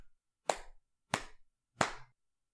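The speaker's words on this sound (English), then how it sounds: "Aleister claps her hands 4 times." Bare hands clap three times in an even, unhurried rhythm. Each clap is sharp and close, separated by silence, with no talking.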